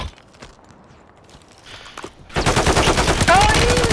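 Loud sustained automatic gunfire in Call of Duty kicks in halfway through, following quieter scattered game sounds and footsteps.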